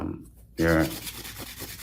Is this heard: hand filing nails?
yes